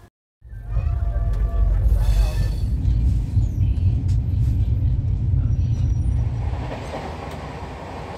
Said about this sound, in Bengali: এখন আমরা ক্রস করছি খড়গপুর স্টেশন